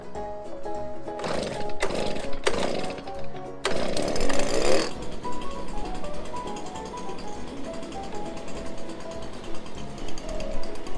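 A small mist blower engine revs with a harsh, rattling whine through a few loud bursts, then settles into a steady running drone.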